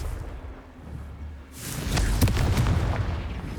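Confringo blasting spell explosion in Hogwarts Legacy on PC, a single heavy boom that bursts in about midway and rumbles on loudly after a quieter lead-in.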